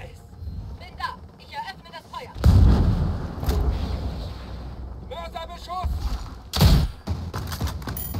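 A heavy explosion in the tactical shooter Ghost Recon Breakpoint, a deep booming blast followed by a second thump a few seconds later, with game effects and someone speaking over it.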